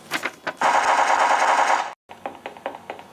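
Rapid automatic gunfire in a Lego action cartoon, a sustained burst of fast rattling shots preceded by a few single cracks and followed by more scattered shots after a brief silence.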